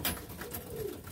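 Pigeons in a loft, agitated after their food was removed, cooing and stirring nearby in a short burst of overlapping bird sounds.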